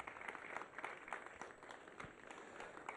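Audience clapping for the First Lady at a hospital sod-cutting ceremony, a steady patter of many hands at a moderate distance, sustained for a few seconds without speech.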